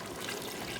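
A brief, steady wash of water being poured into a pot of beef pulao with potatoes, close and continuous with no talk over it.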